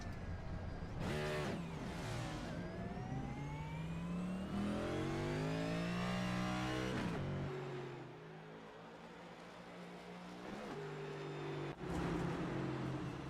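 Race car engines in the iRacing sim racing game at Phoenix, Winston Cup-style stock cars revving and shifting in repeated rising pitch sweeps, loud and continuous with gear changes and passing cars.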